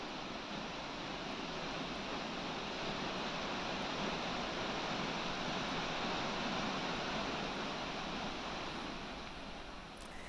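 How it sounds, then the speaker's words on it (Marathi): The Sitanhani waterfall inside a cave pours over its edge after heavy rain, a dense continuous roar of rushing water with no breaks or voices. "लेणीमध्ये असलेला सीतान्हाणी धबधबा ओसंडून वाहू लागलाय"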